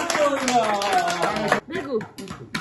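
Guests at a party clap and cheer together, with bursts of hand claps mixed with voices calling out, then a brief pause before scattered claps and voices return.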